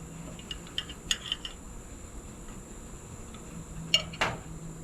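Cutlery cuts into a southern fried pork chop on a plate, giving a few sparse, light clinks and scrapes, with a sharper pair of clinks near the end, over quiet room tone.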